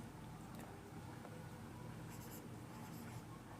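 Pen or chalk writing out a maths solution for a polynomials lesson, faint scratchy strokes under a loud, steady background hiss.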